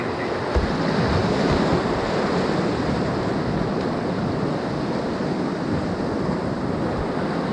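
Whitewater rushes through the Hell's Half Mile rapids on the Ocoee River, a loud, close, unbroken roar of churning water with no voices.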